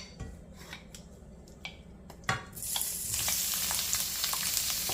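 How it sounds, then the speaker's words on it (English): Shrimp hit hot olive oil in a pan with a loud, sharp sizzle that swells and stays steady, after a few quiet clinks and taps; no voices. "Then we're going to heat olive oil over medium heat. Then we're going to add the shrimp."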